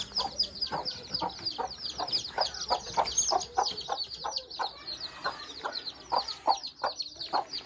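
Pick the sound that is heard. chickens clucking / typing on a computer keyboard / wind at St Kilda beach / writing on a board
chickens clucking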